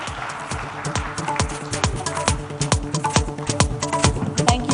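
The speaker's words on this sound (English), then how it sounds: "I think you should give him one more round of applause." An audience at a live summit talk gives a round of applause: sharp, scattered hand claps that build into a steady patter over a faint background tone.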